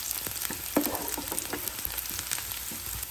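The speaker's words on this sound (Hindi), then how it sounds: "तेल अच्छे से गर्म होने के बाद इसमें 100 ग्राम प्याज डाल दें" Onions sizzling and frying in hot oil in a pan, a steady broadband crackle with occasional stirring clatters, close and moderately loud with no talking.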